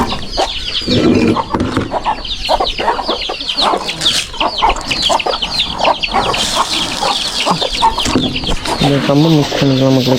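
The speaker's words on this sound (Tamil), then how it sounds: "கோழி குஞ்சு" Chickens and chicks in a cage cluck and cheep all through, loud and close, with a busy, overlapping chatter. A person talks briefly over the flock.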